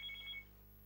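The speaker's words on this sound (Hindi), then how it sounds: "बेल क्यों बज रही है? ओह सॉरी, ये तो मेरे मोबाइल पे।" A mobile phone rings with a brief, high electronic tone that lasts under half a second and then stops, quiet and alone against a low background hum.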